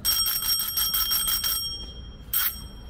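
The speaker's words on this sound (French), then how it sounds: "Ça c'est un klaxon, une sonnette" Bicycle bell on a city street, rung in a rapid string of bright metallic dings for about a second and a half, followed by one more ring after a short pause, loud and close with no talking.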